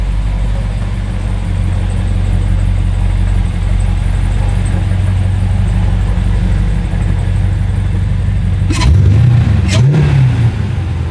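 An LT4 V8 on its stock cam idles loudly and steadily in a BMW E92 M3, a deep, even rumble heard up close, broken near the end by a couple of sharp blips of revving.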